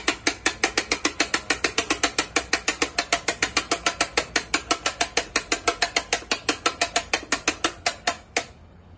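An Easy Power Starter engine starter ratchet is wound by hand, producing a long, steady series of sharp, evenly spaced clicks, close and loud, stopping abruptly at the end.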